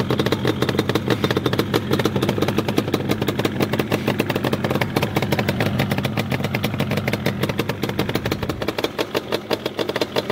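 A 1996 Yamaha Banshee two-stroke engine idles steadily and close, a rapid, even popping putter that holds at one pitch throughout with no voices.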